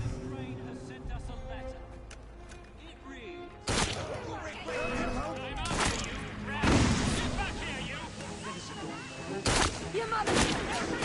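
Gunfire in Assassin's Creed Syndicate, set in Victorian London: several sharp, loud shots spaced a few seconds apart over ambient street noise and rumbling, with voices talking in between.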